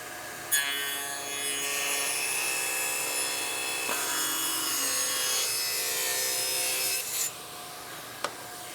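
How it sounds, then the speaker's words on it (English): A table saw trims wood for a skateboard rack, cutting in one loud, close, sustained whine of about seven seconds, then spinning down, followed by a single sharp knock. "I'm gonna trim this off of here with the table saw."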